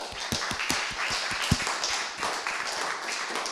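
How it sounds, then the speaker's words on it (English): Applause from an in-person audience at a neuroscience seminar as a talk ends, with sparse, uneven claps and taps that sound fairly close and sit over light room noise, with no voices. "I hope you can hear the applause for a remarkable talk."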